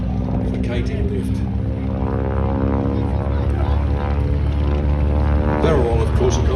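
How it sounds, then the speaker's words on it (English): At the Warbirds Over Wanaka airshow, a propeller aircraft flies a barrel roll in front of the crowd, its engine a loud, continuous drone with humming tones that shift in pitch as it manoeuvres. "Frank's final manoeuvre will be back along the line for a barrel roll in front of the crowd"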